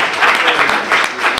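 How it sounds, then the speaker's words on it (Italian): Applause from an audience at an Italian science café talk on climate change, a steady wash of clapping filling the whole moment at moderate loudness with no talk over it. "è stata curata dal dottor Andrea Bigliotti, al quale farei un applauso"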